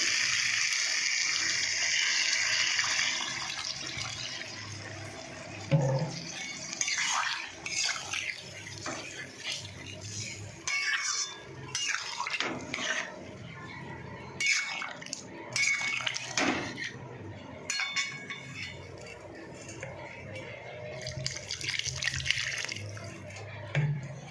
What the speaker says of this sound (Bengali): কষা হয়ে গেছে, এবার জল দিয়ে দেবো।